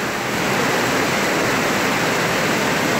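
Water in an underground river rushes continuously, a steady dense roar filling the space at a constant level, with no voices.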